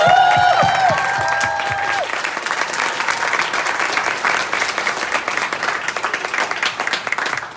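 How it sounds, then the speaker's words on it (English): Loud, dense applause from a convention panel audience at RocCon fills the room, a brief spoken line overlapping the opening seconds before steady clapping carries on to the end. "Let's give her a round of applause."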